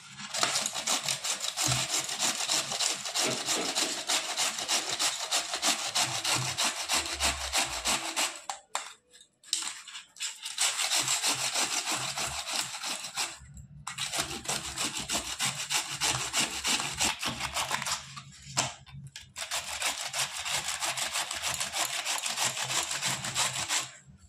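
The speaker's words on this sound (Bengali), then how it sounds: "এবার এই ঘষুনিটা দিয়ে আমি ঘষে নেব মূলোগুলো" Halved, washed radishes rubbed on a hand grater make a steady close scraping rasp in long continuous runs, broken by three short pauses.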